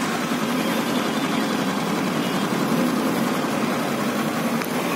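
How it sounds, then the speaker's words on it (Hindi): A small scooter engine with freshly completed engine work idles steadily nearby, an even, unbroken hum with a faint buzzing texture and no one speaking. "तो इंजन का साउंड भी एकदम कंप्लीट हो गया है"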